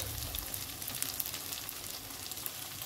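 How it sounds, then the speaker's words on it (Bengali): Spice paste of chili powder and cumin powder frying and being stirred in a pan, a steady crackling sizzle with faint scraping, close and fairly quiet, with no talk. "এবার এগুলোকেও আমি ভালো করে মিশিয়ে কষতে থাকবো যতক্ষণ না কাঁচা গন্ধটা যায়।"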